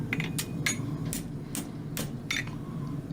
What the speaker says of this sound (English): Level the shoe with overlapping blows from toe to heel.